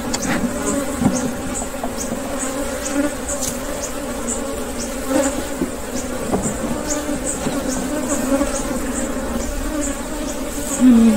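A steady, dense insect buzz of honeybees around a hive fills the whole stretch, holding an even level throughout with a few slightly louder swells.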